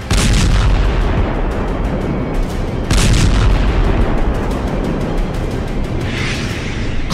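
Missile strikes hitting a residential district of Kharkiv, Ukraine, heard as a dense, loud barrage of booming blasts and rumbling detonations, with sharp bursts near the start and around three seconds, no talk.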